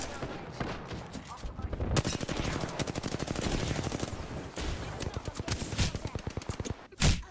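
Gunfire from a firefight in Apex Legends: a dense, fast rapid-fire stream of shots with several short breaks, ending in one heavy, loud blast, all close and without talk.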